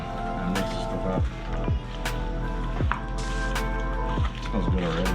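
A citrus lingcod taco marinade being stirred with wet, squishing sloshes that repeat in an uneven rhythm, close by and moderately loud, with no talk over it.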